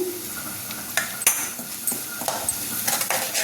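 Flat beans and curry leaves fry in a pan while a spatula stirs them, giving a steady close sizzle broken by a few sharp metal clinks and scrapes.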